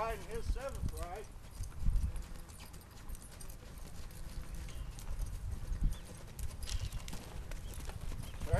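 Steady clip-clop of a young horse's hooves on a trail under a rider, close and continuous, with someone talking over the footfalls.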